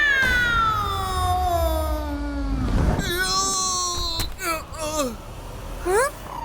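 A cartoon cat's long, drawn-out meow with falling pitch, followed by several shorter, sharper meows, close and loud.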